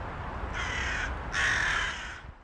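Crows caw in two harsh, loud calls, the second longer and closer, over a low background rumble as the birds arrive.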